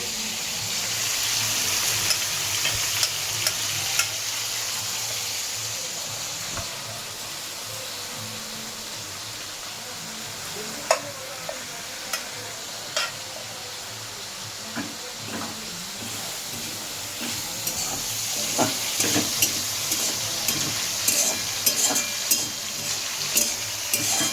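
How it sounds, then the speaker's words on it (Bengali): Washed lentils frying in a pan keep up a continuous hiss, broken by intermittent scraping stir strokes and light clicks that cluster toward the end, with no talking. "এটা ভালো করে ভেজে নেব"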